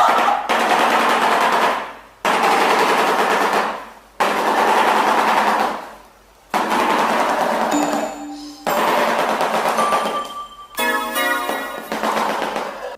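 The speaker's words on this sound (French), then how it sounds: "En réalité, il produit ce son avec les claquements de son bec." Rapid wooden clattering bursts from a shoebill stork's bill, sounding like loud machine-gun rattles in four or five sustained runs separated by short pauses, with faint tonal noises near the end.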